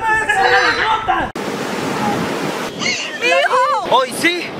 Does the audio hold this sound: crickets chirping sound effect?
no